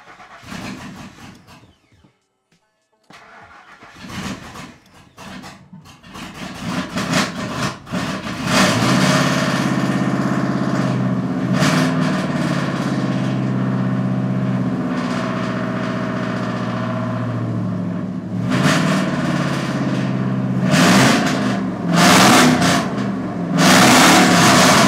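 An engine cranks and catches after a near-silent pause, then settles into a steady loud idle with occasional sharp revs; a distorted, buzzy tone throughout.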